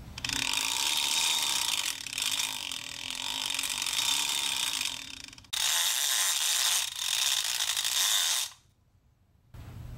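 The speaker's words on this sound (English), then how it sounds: "I'll show you what the clicker sounds like on an international," Rapid ratcheting clicks from the clicker on a Penn Squall 50 VSW conventional fishing reel, a loud continuous buzz of clicks in two long bursts with a short break between them, ending in near silence.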